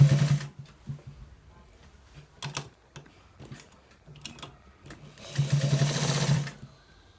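Sewing machine stitching a white trouser, running in short bursts and then a longer steady run near the end, close and fairly loud with no talk.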